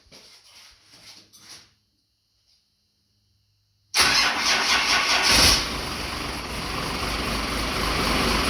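A stored car, run off a battery pack, cranks and fires into a loud, steady idle after a few seconds of near silence, preceded by faint handling noises.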